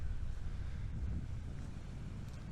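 Wind gusts buffet the microphone in a low, steady rumble, faint and continuous, with no voices.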